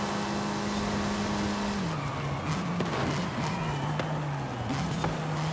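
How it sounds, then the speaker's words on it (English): Hard braking and skidding from a car in Forza Horizon 5 during an off-road race, a steady engine drone with a held tire squeal bending downward, loud and continuous. "Hard into the brakes."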